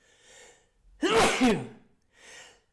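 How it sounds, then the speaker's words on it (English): A man sneezes once, loud and close, between quieter breathy inhales before and after the burst. "I sneeze in 3s."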